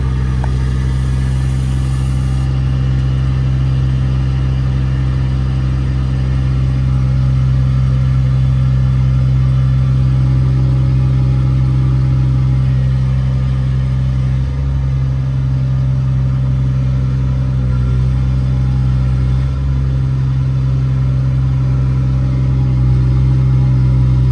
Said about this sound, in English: press it again, idles up, hear the compressor turn on